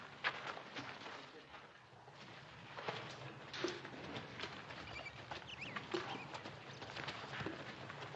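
Horse hooves clip-clopping at a steady walk on hard ground, moderately near, a scattering of sharp knocks over a low background with faint voices.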